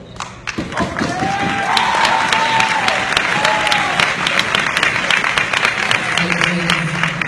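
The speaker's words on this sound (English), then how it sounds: "do not clap while they are speaking." An audience at a Boys State gubernatorial debate bursts into sustained applause of sharp, dense claps for about seven seconds, with faint voices underneath.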